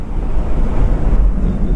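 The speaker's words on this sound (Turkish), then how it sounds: "hala su azgın bir şekilde akıyor derede" A swollen stream rushing fast after heavy rain, the Ayamama Deresi in Istanbul, gives a steady, loud, broadband roar with a wind-buffeted rumble, continuous and close, with no voices.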